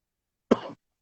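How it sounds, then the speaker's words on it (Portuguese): A single short, sharp cough from someone recovering from Covid, close and clear against silence, during a Portuguese-language talk on tax reform. "estou com um pouquinho de tosse"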